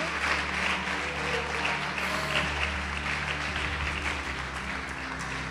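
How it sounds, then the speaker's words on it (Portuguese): Church congregation clapping during a worship service, a dense, sustained wash of applause filling the hall with a low hum beneath it and no speech over it. "Pode aplaudir e glorificar o Senhor Jesus."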